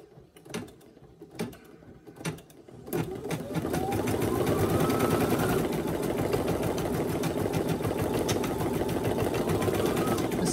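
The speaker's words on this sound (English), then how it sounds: "put the presser foot down and go ahead and stitch that out" A Brother home embroidery machine (SE1900, PE800 or PE700 class) stitches out a design after a few sharp clicks, settling into a steady, loud, rapid mechanical whirring and needle chatter that continues throughout.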